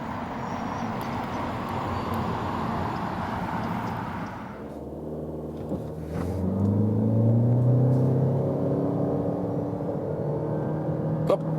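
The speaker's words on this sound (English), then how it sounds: "That was 0 to 70 kilometers an hour with the 2-liter hybrid." A 2023 Toyota Corolla hybrid hatchback with a 2-liter engine accelerates from 0 to 70 km/h, a quiet electric hum giving way to a rising engine drone that swells and holds as speed builds.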